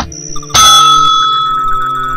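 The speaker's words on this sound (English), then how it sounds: "A bell." A single bright bell is rung once and rings out loudly, its tone slowly decaying over about two seconds, used as an opening intro for a Duck Life 4 gameplay episode.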